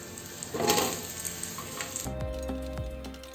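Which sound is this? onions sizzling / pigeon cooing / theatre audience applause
onions sizzling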